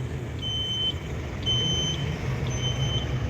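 A backup beeper on a pickup truck across a street sounds three evenly spaced high tones over a steady low idling engine and traffic rumble, each beep about half a second long.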